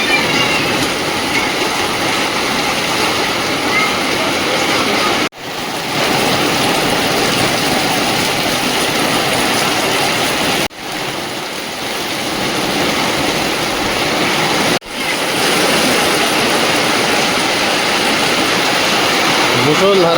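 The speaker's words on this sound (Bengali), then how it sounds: "মুষলধারা বৃষ্টি হচ্ছে।" A heavy downpour of rain roars loud and close in a continuous dense wash, broken by a few abrupt short cuts in the sound.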